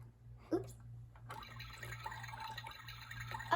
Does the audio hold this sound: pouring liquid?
yes